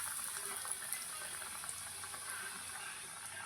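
Finger-shaped pieces of fish fry in hot oil over a moderate flame, giving a steady, dense sizzle that runs unbroken and close-up without any voices.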